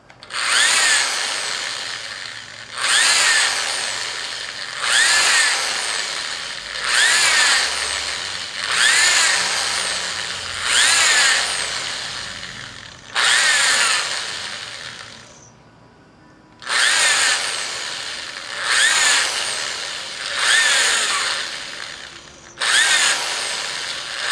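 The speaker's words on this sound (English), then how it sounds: "Then now you use a drill and you drill the holes that you punched out." A power drill drilling out punched holes in leather runs in a steady series of short, loud bursts, about nine in all, each whining briefly before cutting off.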